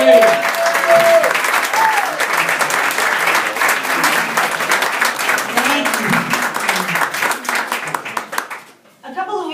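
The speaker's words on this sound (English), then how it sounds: "Give everyone applause." A comedy club audience applauds a comedian, a dense, steady wash of clapping lasting about nine seconds before cutting off abruptly, with brief cheers and voices mixed in.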